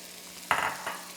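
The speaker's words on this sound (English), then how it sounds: "I got half of a medium onion that I got going into the pan. I already have about 2 tablespoons of butter melted in here." Half a medium onion dropped into about two tablespoons of melted butter in a pan, giving a sudden close sizzle that quickly settles, followed by a second, softer burst.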